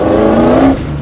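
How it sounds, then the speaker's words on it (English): A supercharged V8 drift truck on a large road course revs hard in a loud, close, sustained roar that eases off near the end of the brief burst. "Cruising in my drift truck, hitting the skids."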